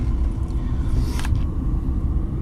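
A 1997 Mercedes-Benz S320 W140 climbs a hill, heard from inside as a steady, loud low engine and road rumble with a brief brighter swish partway through.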